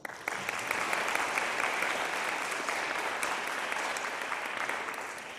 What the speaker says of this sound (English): So let's all give everyone a round of applause.